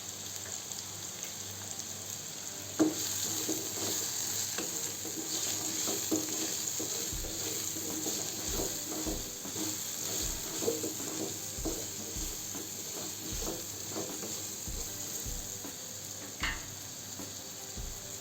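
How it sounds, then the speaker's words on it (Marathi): Mango pieces cooking in oil over low heat for mango chutney, a steady soft sizzle with occasional light clicks of stirring, close and alone with no talking. "कमी गॅसवर एक मिनिट शिजू द्यायचा"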